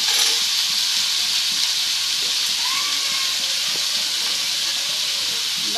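Pieces of elephant foot yam frying in oil in a pan give off a steady, loud broadband hiss and sizzle that runs unbroken from start to end, with no one talking.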